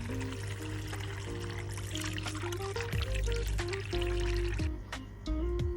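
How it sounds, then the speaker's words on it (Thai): Artemia (brine shrimp) eggs being rinsed in water during hatching: a continuous close pouring and trickling of water with small splashes and drips, steady throughout. "ตัวที่ติดกับเปลือกไข่อาติเมีย เรานำมาล้าง เพื่อให้ตัวแยกออกจากเปลือกไข่อาติเมียอีกครั้งหนึ่ง"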